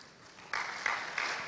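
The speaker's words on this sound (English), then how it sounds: "give a huge round of applause for our distinguished speakers" An audience at a business summit meeting applauds its speakers, a steady wash of clapping that swells partway through and holds at moderate, slightly distant volume.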